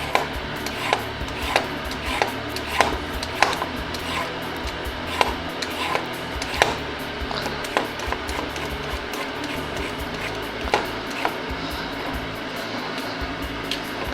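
Carrots have their ends trimmed with a knife on a cutting board, giving a string of sharp, irregular chops and taps over a steady low room hum, close and moderately loud, with no one talking.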